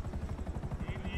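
Helicopter in a video game, a brief rapid rotor chop with a fast regular thumping beat, heard faintly in the background.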